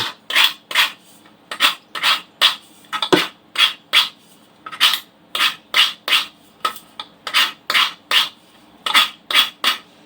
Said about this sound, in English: You can see everything here I'm kind of scraping out.